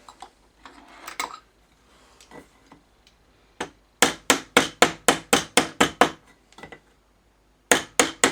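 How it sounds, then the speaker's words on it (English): Hammer taps on small metal pieces, knocking them flat while working on a Roberts R800: a few scattered light knocks, then a quick run of about ten sharp, evenly spaced metallic strikes, a pause, and several more close up. "And just tap these here so they're flat."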